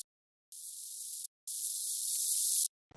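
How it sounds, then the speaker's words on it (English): Processed white noise filtered down to only its crisp high end hisses in two loud bursts separated by a brief gap, each like a bright spray or sizzle, with volume shaped over time. "to only keep the crispy end of the white noise"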